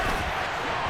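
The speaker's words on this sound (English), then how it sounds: "The crowd getting into it as we come up on a big third down." Stadium crowd in the Madden NFL 23 football video game, a steady loud roar of cheering fans building ahead of a big third down, continuous and dense with no clear breaks.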